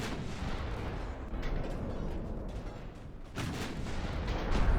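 Naval artillery roars aboard the battleship California in the Ultimate Admiral: Dreadnoughts game, a dense, continuous barrage of heavy gunfire and booming impacts with a sharper burst of firing near the end.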